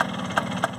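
A 1979 Vespa P125 scooter engine idles nearby, a steady low mechanical hum with faint periodic ticks and no voices.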